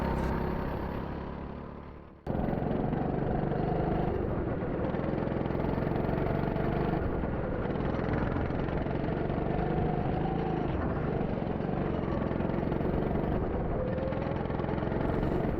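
Go-kart engines idle steadily on the way to the grid before a second heat at an SCK race, a loud, continuous mid-to-low engine drone after a brief dip near the start, with no talk over it.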